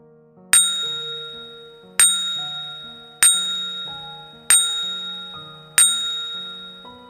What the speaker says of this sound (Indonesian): Lonceng dengan gagang kayu kecil sebagai pegangannya.